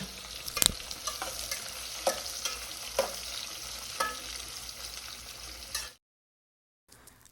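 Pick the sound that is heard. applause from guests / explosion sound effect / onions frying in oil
onions frying in oil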